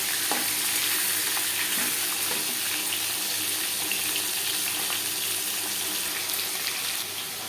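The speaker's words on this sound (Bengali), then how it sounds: "পরে মাছ মাথা একইভাবে ভেজে নেব" Chela fish heads frying in hot oil, a loud dense continuous sizzle and crackle filling the whole stretch close up, with no talking.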